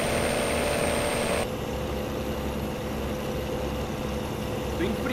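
Truck engine straining uphill in first gear in a truck driving video game, a steady, muffled mechanical drone that continues evenly throughout at moderate loudness.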